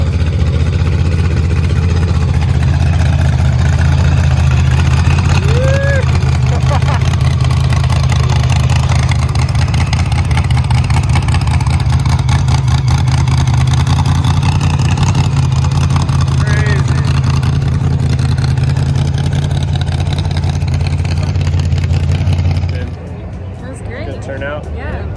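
A loud car engine at a car show rumbles steadily at idle close by for over twenty seconds, then cuts off near the end, with people talking underneath.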